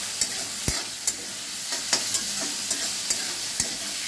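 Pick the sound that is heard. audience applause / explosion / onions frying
onions frying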